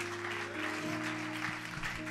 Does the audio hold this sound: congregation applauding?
yes